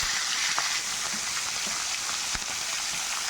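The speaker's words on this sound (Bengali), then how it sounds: "মাছগুলো আমি হালকা একটু করে ভাজা করে নেবো।" Hilsa fish pieces sizzle in hot oil in a pan, a loud, steady crackling hiss with occasional sharper pops, close up and continuous with no talking.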